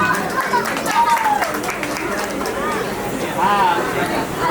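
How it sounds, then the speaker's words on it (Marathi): Applause for the three winners at a first birthday party, scattered clapping rising and falling beneath lively crowd chatter and a talking voice. "तिघांसाठी जरा जोरात टाळ्या झाल्या पाहिजे."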